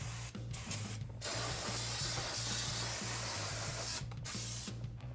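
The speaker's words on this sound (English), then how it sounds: "We're just going to hit it with some brake cleaner one more time" Brake cleaner sprays onto the rotor and pads of a Jeep Wrangler in a few steady hissing bursts, one short, one longer and sustained, then another, heard up close with no talking.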